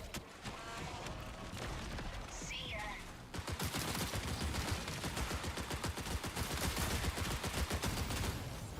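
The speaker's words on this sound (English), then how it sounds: "I'm shooting right first." Gunfire in the video game Marathon, a sustained barrage of rapid automatic shots that grows denser and louder halfway through, with players talking underneath.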